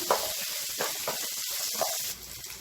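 Small shallots and curry leaves sautéing in a pan, a steady close hiss of sizzling oil with occasional stirring scrapes, moderately loud before easing off near the end, with no talking.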